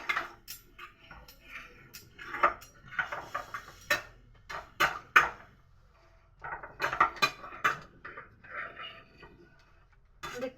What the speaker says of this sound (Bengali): দেখতে পাচ্ছ আমি কেমন ভাবে খুন্তি দিয়ে ভালোভাবে টেনে নিচ্ছি।